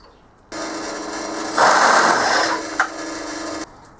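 A 12mm bit drilling into a guitar pedal enclosure at reduced speed, a steady whirring grind that swells louder as the bit bites into the metal, then stops abruptly after about three seconds.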